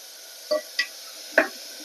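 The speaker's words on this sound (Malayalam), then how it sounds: "ഇതൊന്ന് നന്നായിട്ട് വറുത്ത് കൊടുക്കാം" Vegetables for sambar frying in a pan, a faint low sizzle beneath three short distinct scrapes or clinks of stirring, close and quiet.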